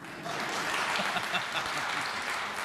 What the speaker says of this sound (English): It would be quite appropriate to applaud at this point.